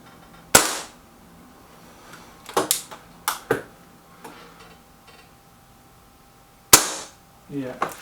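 Several sharp shots from a BSA Defiant air rifle, each a crisp crack with a quick decay, spaced irregularly among fainter clicks and taps of handling, with two of the loudest reports standing out near the start and end.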